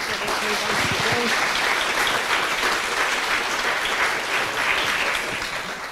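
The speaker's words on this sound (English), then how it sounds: "Yeah, please clap." Conference audience applauding after a talk on agile and ethical design, a loud sustained wash of clapping from a full room that holds steady before easing off slightly at the end.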